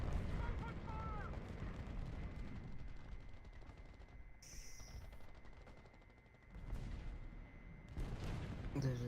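Video game artillery strike: rumbling explosions and gunfire bursts roll on continuously at a low level, with brief higher electronic tones in between.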